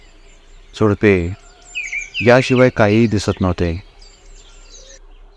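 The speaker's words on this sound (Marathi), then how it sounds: "पक्ष्यांचा किलबिलाट" Faint birds chirping in a forest, thin high calls continuing in the background beneath a person speaking.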